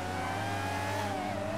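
Formula 1 car engine in a racing video game, a steady high-pitched whine holding near-constant revs with a slight pitch dip toward the end, continuous and moderately quiet.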